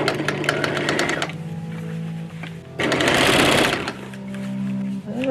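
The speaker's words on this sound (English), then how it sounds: "Sew that all the way around." A sewing machine stitches around a coat sleeve being shortened, with two loud bursts of rapid, rattling stitching separated by quieter pauses and soft handling sounds.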